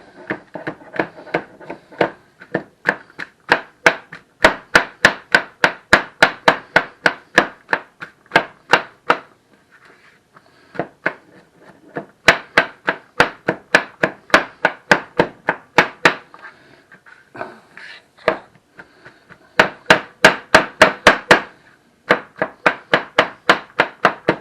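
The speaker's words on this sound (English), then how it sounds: "we're going to chop this stuff up here" Knife steadily chopping seafood stuffing ingredients for stuffed mushrooms on a chopping board, with rapid rhythmic bursts of sharp taps separated by short pauses and no talk.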